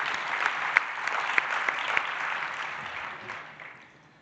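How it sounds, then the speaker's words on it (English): Applause from an audience, a dense wash of clapping with a few sharper claps, gradually fading out at the end. "We need to applaud all the people who organized the morning session."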